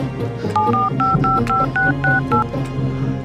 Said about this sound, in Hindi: हाँ, पुलिस को फोन करता हूँ।